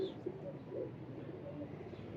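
Pigeons, Rampuri and Firozpuri breeds kept by a fancier, coo softly in a low, steady murmur on an overcast day, faint and continuous with no voices.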